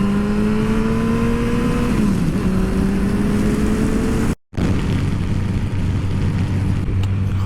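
A Yamaha FJR 1300 motorcycle ridden fast through turns on an evening road, its engine note steady and loud with rising and falling pitch as it works through the bends, plus a brief dropout midway and constant wind rush.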